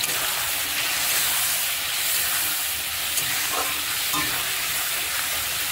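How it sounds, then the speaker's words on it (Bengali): Ground spice paste with tomato, Kashmiri chili powder, sugar, salt, cumin and turmeric, sizzling steadily in a pan while being stirred, a close, continuous fry with occasional scraping. "তো এবারে মশলাটা আমি ভালো করে কষিয়ে দিচ্ছি।"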